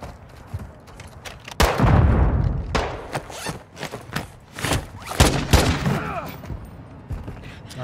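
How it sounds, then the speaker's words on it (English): Gunshots in a video game, a series of sharp booming shots and thuds scattered irregularly throughout, some loud and close, with talking mixed in between. "Who the fuck is shooting? Bitch, stop shooting me."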